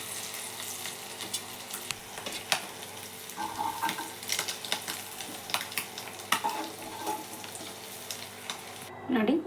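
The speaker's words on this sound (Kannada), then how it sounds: "ಇದು ಒಂದು 5 ನಿಮಿಷ ಇದೇ ರೀತಿ ಫ್ರೈ ಮಾಡ್ಕೊಳ್ಳೋಣ" Eggs frying in a pan for a masala egg curry, a steady close sizzle with intermittent stirring and scraping taps throughout.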